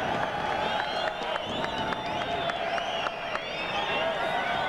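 Arena crowd cheering and clapping for hometown fighter Pat Miletich at a 1996 MMA event, a steady roar of voices with scattered claps and whoops throughout.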